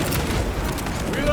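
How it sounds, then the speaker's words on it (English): A frag grenade bursts in Warhammer 40000: Space Marine 2, a dense booming blast tangled with rattling gunfire, while a voice talks over the battle. "Deploy frag grenade!"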